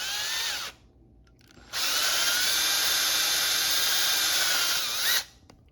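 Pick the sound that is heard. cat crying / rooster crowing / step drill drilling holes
step drill drilling holes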